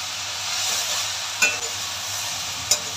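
Potato, beans, carrot and green beans with turmeric and salt sauté in a pan, a soft steady sizzle broken by two sharp clinks of a spoon stirring against the pan.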